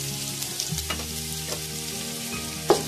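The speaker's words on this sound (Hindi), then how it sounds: "थोड़ा सा इसको चिमटे से ला के इसको फ्राई करेंगे।" Rice pulao with garam masala fries in a pot, sizzling steadily, with a few scraping stirs of tongs and a sharp clink near the end, close and without talk.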